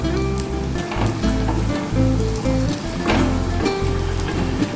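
Potol kofta balls fry in hot oil in a pan, giving a loud, continuous sizzle and crackle with occasional stirring clinks and low rumbles.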